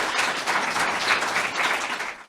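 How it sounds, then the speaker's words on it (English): Audience at a Writers' League of Texas panel on writing about social justice gives the panelists a warm round of applause, dense steady clapping that holds for about two seconds, then cuts off. "Please give our panelists a warm round of applause."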